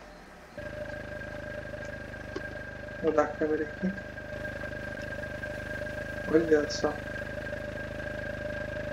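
A car engine idles in the BeamNG.drive video game, giving a steady, even hum through the whole stretch while someone talks over it in two short bursts.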